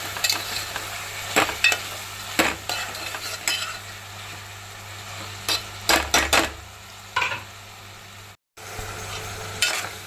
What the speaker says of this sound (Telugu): మధ్య మధ్యలో కలుపుకుంటూ ఉండాలండి, మధ్యలో చూసుకుంటూ ఉండాలి.